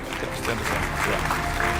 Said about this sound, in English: Can we please clap hands?